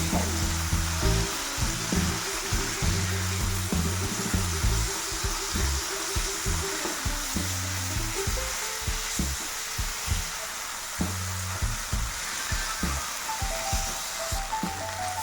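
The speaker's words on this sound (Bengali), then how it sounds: "এবার আমি টমেটোগুলো খুব ভালো করে ভেজে নেব" Tomatoes fry in a pan for a Bengali hilsa fish with mustard greens dish, giving a steady close sizzle with soft crackles and occasional stirring throughout, no talking.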